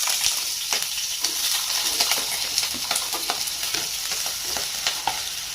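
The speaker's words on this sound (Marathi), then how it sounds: "मी आता बटाटा या ठिकाणी टाकून आपण तो पण पसरून घेऊया" Sliced potatoes for Mumbai-style batata poha sizzle in hot oil in a pan while a spatula stirs and spreads them, giving steady frying crackle with frequent scraping clicks and no voices.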